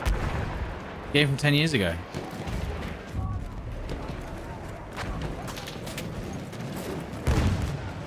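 Battlefield 1 gunfire cracks out in a few sharp shots amid battlefield ambience, with a person talking over the game sound.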